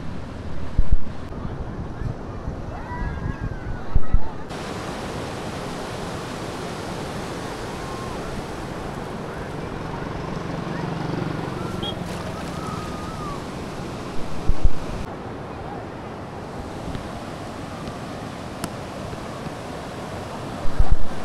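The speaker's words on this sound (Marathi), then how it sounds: "आपण पार तिकडे असतो तेव्हा लाटा असतात." Sea waves wash onto the beach at Guhagar in a steady, continuous surf roar, with wind buffeting the microphone and a few louder gusts breaking through.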